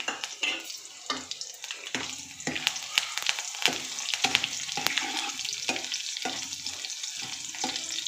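Garlic, fenugreek seeds and urad dal crackle in hot oil for a tempering, with a busy sizzle broken by repeated scraping stirs and a few metallic pan knocks; no voices.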